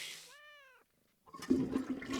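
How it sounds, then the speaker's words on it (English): A cat meows once, a clear rising-falling tonal cry from the Zoo Tycoon video game, followed after a short silence by a rushing burst of flushing water. "And the random cat sound."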